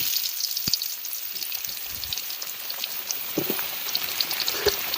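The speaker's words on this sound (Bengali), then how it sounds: "আলু দিয়ে একটু ভালো করে ভেজে নিন লাল লাল করে আলুটাকে ভেজে নেবেন" Potato pieces frying in pure mustard oil in a village kitchen pan give a steady crackling hiss with scattered sharp pops and spits, fairly loud and continuous throughout, with no voices.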